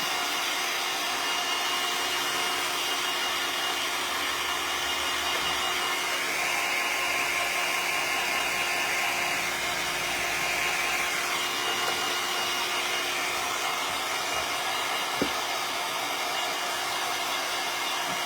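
A hair dryer runs continuously to dry a wood shim snowman winter craft, a steady loud whirring blow that holds for the whole stretch, with one faint knock near the end and no talking.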